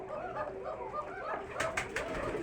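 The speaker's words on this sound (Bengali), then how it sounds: "এই যে ঘর কবুতরের, যে যার মতন বাচ্চা নিয়ে বসে আছে।" Giribaj pigeons cooing inside a pigeon house where the birds sit with their young: soft, low rolling coos repeat close by, joined near the end by a few brief rustles or wing flutters.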